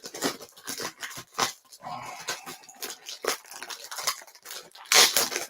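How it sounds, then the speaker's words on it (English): Scissors snip and cut open a package in a series of sharp, close crunching cuts with rustling and tearing of the packaging in between, followed by a louder final snip. "Scissors."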